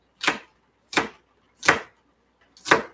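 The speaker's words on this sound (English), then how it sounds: "You guys don't need to see me chopping my onions, do ya?" Four crisp, evenly spaced knife chops through onions on a cutting board, close and clear with short silences between strokes and no talking.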